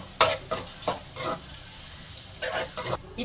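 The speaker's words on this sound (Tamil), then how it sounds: "காஞ்ச மிளகா போட்டுடலாம்." Dried red chillies hitting hot oil in a pan for a spinach stir-fry, giving bursts of crackling sizzle in several pulses along with stirring scrapes, close up.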